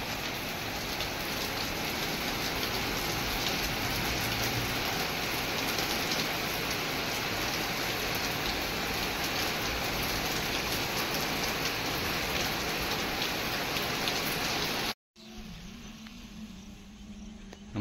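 Heavy village rain pours down in a dense, loud, steady hiss for about fifteen seconds, then the sound cuts abruptly to a quieter outdoor background.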